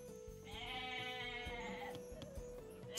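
Goats bleating in the strategy game Age of Mythology, a wavering, drawn-out animal cry over a busy bed of in-game music and effects, moderately quiet and with no talking.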